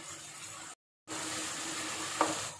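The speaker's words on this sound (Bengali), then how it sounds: "মশলাগুলো একটু কষিয়ে" Ground cumin and coriander powder sautéing in a pan for chicken pilaf, a steady soft sizzle broken by a brief silent gap, with one faint stir or scrape near the end.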